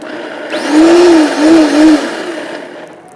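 Food processor pulsing pesto made with red pepper, a loud close whirring motor that revs up in three short bursts with brief dips between, then winds down.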